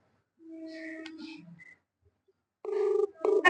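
Outgoing phone call home on a mobile, heard as a melodic electronic caller tune with a few short tonal phrases, a pause, then louder buzzy tones, close and clear.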